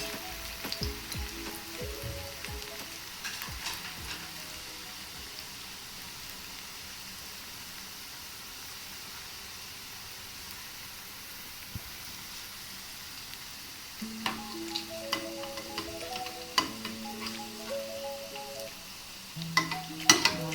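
Maida batter fries in oil in a pan over medium heat for a tea-time snack, with a continuous soft sizzle and crackle, heard alone and moderately close with occasional brief clinks.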